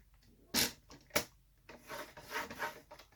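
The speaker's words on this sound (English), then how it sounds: "we are going to score this at 3/4 inch" A scoring tool is drawn along paper on a scoring board in a few quick, soft scraping strokes, two sharp rubs early and then a longer series of light rasping passes, close and quiet.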